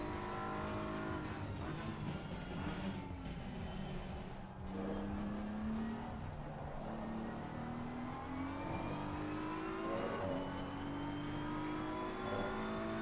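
A race car engine in a racing video game with DRS, roaring continuously up close, its pitch climbing and dropping through gear changes and revs, with occasional tyre squeal.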